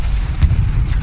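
Heavy, low booming explosions in the Battlefield 1 video game rumble loudly and continuously through a short stretch.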